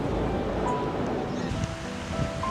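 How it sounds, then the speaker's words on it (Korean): Steady rushing surf crashing against rocks at Yeonggeumjeong in Sokcho, a broad, continuous wash of water, waves breaking close by with some wind noise and no voices. "파도가 바위에 부딪힐 때 나는 소리가"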